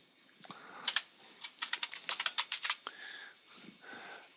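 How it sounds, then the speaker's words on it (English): Quick bursts of typing on a computer keyboard, a run of crisp key clicks in an uneven rhythm with short pauses, close and quiet. "We'll type in VLC."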